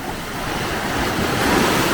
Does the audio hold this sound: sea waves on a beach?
yes